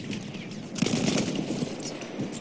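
Shotgun fire in a video game, a short run of quiet, distant-sounding blasts close together with faint game noise beneath.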